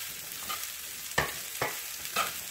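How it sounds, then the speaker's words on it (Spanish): Chopped vegetables for Costa Rican gallo pinto fry in hot oil with a soft steady sizzle, broken by several sharp scraping stirs of a utensil against the pan at irregular intervals. "Vamos a sofreírlo primero,"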